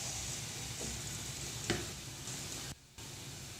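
Battered nendran banana bajji sizzles steadily in hot oil, a continuous close frying hiss with a few soft pops, cut off briefly near the end.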